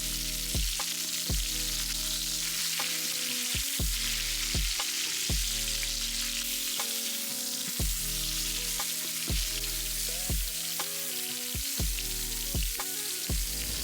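Salmon fillet, just flipped, sizzles steadily in a hot pan with a constant close hiss broken by regular sharp pops and crackles, no voices.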